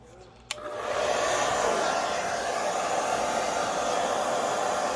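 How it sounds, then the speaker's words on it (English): A hair dryer switches on with a click and then blows steadily, a loud continuous whooshing roar used to heat vinyl wrap film, running alone without talk. "plug in my hairdryer"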